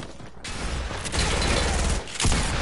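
Video game gunfire from a pistol and sniper rifles, heard as loud bursts of shots that blend into a dense, continuous roar, with no talking.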